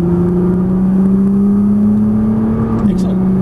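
A Nissan GT-R accelerating on a race track during a trackday, its engine a loud, steady drone that rises gradually in pitch and then drops briefly near the end as the revs fall.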